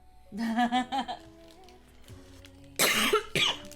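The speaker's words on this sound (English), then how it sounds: "Oh, I'm coughing a lot" A few short, harsh coughs in two bursts, the first cluster rough and voiced, the second sharper and louder after a pause, from a streamer playing NieR: Automata.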